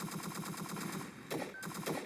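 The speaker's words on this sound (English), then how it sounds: "we just have to fire some shots and hope for the best" Rapid automatic gunfire in the video game Entry Point, a fast rhythmic burst of shots, then a short pause and two more clipped bursts, fairly quiet overall with no talking.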